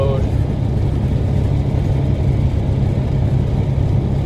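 Steady road traffic rumbles on a country road, dominated by a deep, continuous engine drone from a passing truck, close and loud throughout without a break.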